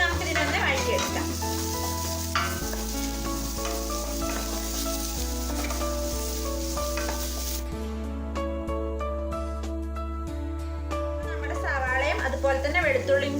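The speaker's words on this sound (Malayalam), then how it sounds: "ഇനി ഞാനിതിലേക്ക് അരിഞ്ഞു വെച്ചിട്ടുള്ള സവാള ചേർത്ത് കൊടുക്കാം. നമുക്കിതിനൊന്ന് വഴറ്റിയെടുക്കാം." Chopped onions sautéing in a pan for dragon chicken give a steady, loud sizzle with occasional stirring scrapes, heard under continuous background music.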